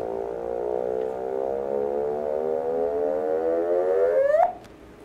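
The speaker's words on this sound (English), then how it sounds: "I want to show you the sound of two black holes merging" Sonified gravitational-wave signal from two black holes merging: a steady droning tone that slowly rises in pitch, then sweeps sharply upward into a brief chirp and cuts off, heard alone.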